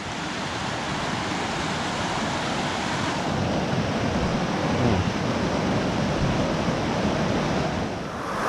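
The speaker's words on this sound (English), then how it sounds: "we're coming up on river crossing number 2 for the day" A rushing mountain river at a backpacking crossing roars in a dense, continuous wash of white noise, loud and close, with no voices.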